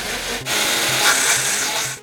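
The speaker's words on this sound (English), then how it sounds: "This car leaks power steering fluid badly, causing the pump to run dry and sound like this." Power steering pump on a car leaking fluid runs dry, giving a close, harsh grinding rasp with faint rhythmic pulses that keeps on steadily.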